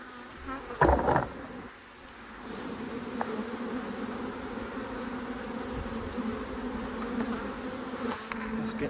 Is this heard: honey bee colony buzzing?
yes